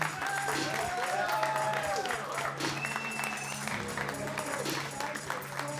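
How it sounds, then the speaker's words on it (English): Applause and cheering from a crowd at a 2XKO fighting game tournament as the winner receives the trophy, filling the space beneath tonal music and some overlapping voices. "Can we get a round of applause and some noise for Will?"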